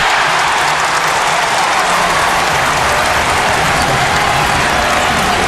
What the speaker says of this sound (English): Many of them now giving them a standing ovation.